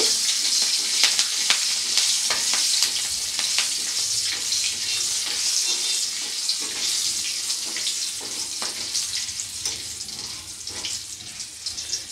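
Spice tempering with slit green chillies fries in oil for a fish curry, a loud, continuous hissing sizzle broken by frequent scraping clicks as it is stirred and tossed.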